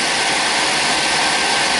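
A GM truck engine runs steadily while warming up after a module replacement, a constant broadband rumble with no talk over it.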